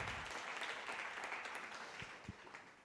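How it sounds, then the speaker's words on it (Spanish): A church congregation applauds steadily during a sermon, a dense even patter of many hands filling the space, fading slightly toward the end. "¿Le podemos dar un aplauso a Dios por eso?"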